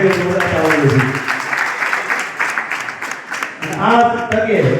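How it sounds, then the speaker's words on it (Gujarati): An audience at a stage event breaks into loud, dense applause. The clapping carries on for several seconds, and a voice over a loudspeaker is heard talking along with it. "જોરદાર તાળીઓ."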